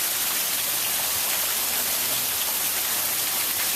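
Steady rain pouring onto a patio, a dense hiss of close-up falling water that continues evenly and alone, without talk.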